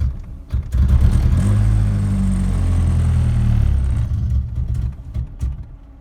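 Car engine on a K-series vehicle after a fuel pressure regulator replacement, revved under throttle: a loud, steady low drone that holds for about three seconds, then sags and sputters as it fades.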